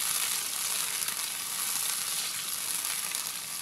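Masala and softened tomatoes fry in a pan for beef yakhni pulao, giving a steady close hissing sizzle with no talk.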